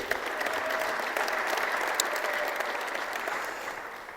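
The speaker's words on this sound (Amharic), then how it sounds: "ተው አጨብጭቡለት እስቲ ለኢየሱስ።" A church congregation claps for Jesus during a sermon, with sustained, dense applause from many hands that holds steady throughout at moderate volume, no voices above it.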